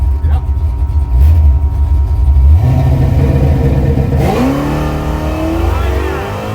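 A car accelerates hard during a track day, its loud engine revving and climbing in pitch through a gear change at close range, with voices talking over the roar.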